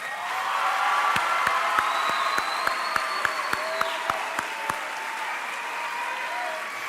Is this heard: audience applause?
yes